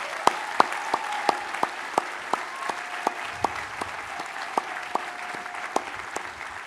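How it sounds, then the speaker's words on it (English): Steady applause from a graduation audience at a medical school class day, honouring 164 graduates, with the crowd's dense clapping running throughout and some crisp individual claps standing out near the front. "let's together applaud all 164 of our HMS graduates today"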